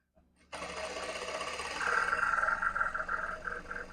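Close-up stitching along a salwar seam on a sewing machine, a steady whirring run that starts abruptly and picks up a faster rhythmic ticking toward the end, fairly quiet.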